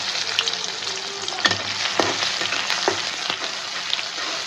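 Onions frying in hot oil in a wok, a loud steady sizzle with crackling and a few sharp stirring knocks spaced through the sound.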